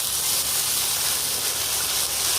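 Ground spice paste for a rohu fish curry sizzles in a hot pan with a steady, dense hiss that holds even and close throughout.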